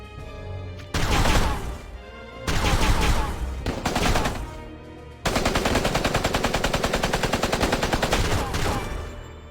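Soldiers firing guns in War of the Visions: Final Fantasy Brave Exvius: loud, close bursts of rapid gunfire separated by short pauses, ending in a long sustained rattling volley, with no talking.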